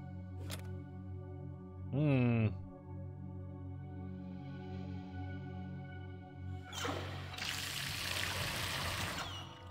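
In the Zork Nemesis video game, water pours steadily for a few seconds, a broad rushing wash that swells in late in the clip after a brief creaking tone and low ambient hum.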